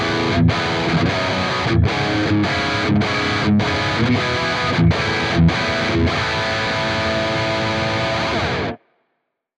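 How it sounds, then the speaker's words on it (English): Heavily distorted electric guitar chugging through palm-muted chords with rhythmic accents, loud and sustained for nearly nine seconds before stopping suddenly. "Next, we have our distorted sound on scene C."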